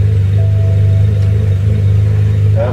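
BMW 1 Series E87 engine idling loud and close after starting, a steady low rumble with a faint squeal near the end and no talk.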